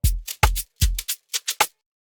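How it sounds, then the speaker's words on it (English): Dry, bright shaker hits in a basic pattern, about eight short swishes over two seconds with some falling on the downbeat alongside deep thuds, part of an Afrobeats-style FL Studio production, played alone. "So this was just a basic shakers."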